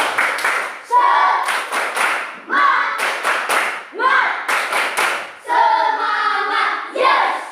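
Students in a classroom perform a patterned spirit clap, loud close bursts of rapid claps with brief gaps between sections, with voices chanting in rhythm.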